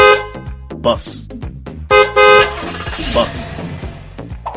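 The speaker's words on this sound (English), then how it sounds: "Bus." A bus horn honks over a busy musical backing, with short loud toots standing out among steady tones, presented as part of a children's vehicle sounds sequence.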